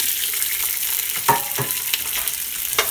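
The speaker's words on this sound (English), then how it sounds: "we're just going to saute this a little bit to soften up the vegetables" Chopped onion, carrot and red pepper sauté in olive oil in a soup pot, a steady close sizzle with a few soft stirring scrapes breaking through.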